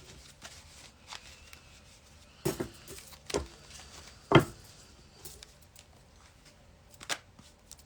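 Soft, sporadic rustles and flicks of tarot cards being shuffled, quiet and close, with long pauses between the louder snaps.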